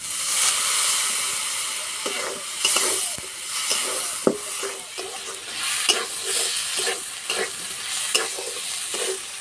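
Potatoes with turmeric and spices sizzle and scrape in a pan for a Bengali silver carp curry with ridge gourd, with steady close frying hiss and repeated spatula stirs.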